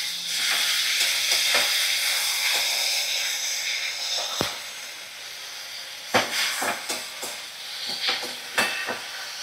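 Black mustard paste and poppy seed paste stirred and frying in a pan, giving a steady close sizzle with scattered scraping stir strokes and a few sharper clinks near the end, no talking.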